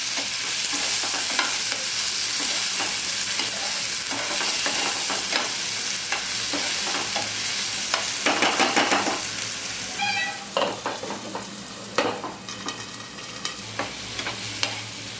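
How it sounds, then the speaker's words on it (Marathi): Chopped onion and finely cut tomato fry in a pan with a steady close sizzle, and a spoon scrapes and stirs through it in scattered clatters toward the end. "कांदा छान गुलाबी होईपर्यंत फ्राय करायचा त्याच्यामध्ये टोमॅटो टाकायचा बारीक कापलेला तो पण छान फ्राय करायचा"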